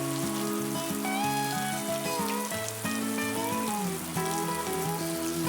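A downpour from the first heavy monsoon in Konkan, with a continuous rain hiss and patter running beneath prominent music for the whole stretch.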